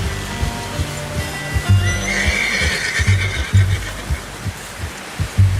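In the video game Red Dead Redemption 2, a horse gives a loud, close whinny over steady low clip-clop of hooves thudding in an uneven rhythm throughout.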